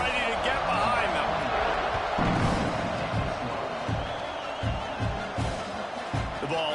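Constant crowd roar fills a stadium at kickoff in a college football video game, a broad loud wash of massed voices with dull thumps and bursts, while a commentator's voice talks over it.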